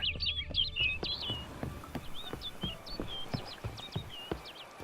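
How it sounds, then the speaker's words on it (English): Quick, bright bird chirps from a Witcher 3 bird flutter in a rapid cluster, then keep coming in spaced calls over a soft ambient background with faint taps. "Looks like the bird's leading me somewhere."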